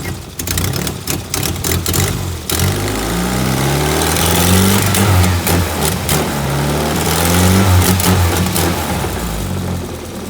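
A Toyota Glanza engine idles while running off a mini wiring loom, a loud, steady mid-pitched drone that rises in a few uneven revs, close up with no talking.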